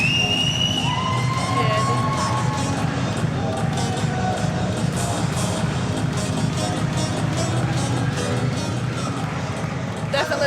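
A big Scottish crowd roars at a boxer's ring entrance: loud, continuous massed cheering and shouting, with a few whistles piercing the din near the start.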